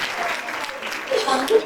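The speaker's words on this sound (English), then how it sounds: "Please give a huge round of applause." Applause from a conference audience at a young writers' poetry event rises in a soft, diffuse wash of clapping, with voices murmuring over it near the end.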